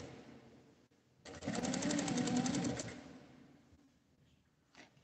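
A sewing machine stitches a small fabric card purse in a short, fast burst of rapid needle clatter lasting about a second and a half, backstitching, surrounded by quiet room tone and a faint knock afterward.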